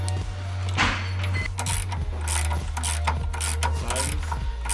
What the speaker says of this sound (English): Use my wrench to send it in through the other side.